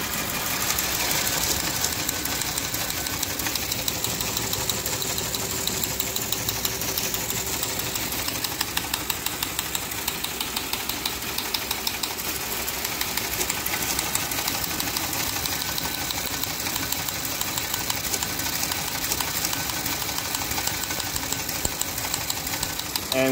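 A Teletype Model 28 prints from punched paper tape, a continuous close mechanical clatter of rapid, even ticks and rattles that runs without a break and with no voices.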